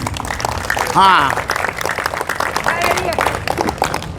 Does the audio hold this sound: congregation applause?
yes